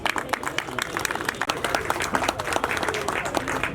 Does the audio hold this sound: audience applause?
yes